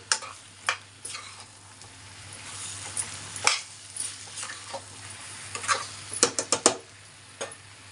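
Chicken curry being stirred in a pan: scattered scraping and clinking spoon strokes over a soft, continuous sizzle, irregular in rhythm and fairly quiet.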